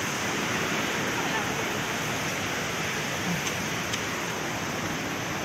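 Constant broadband rush of a flowing river along the route to the Flor del Agua waterfall, loud and close, with no breaks or other sounds standing out.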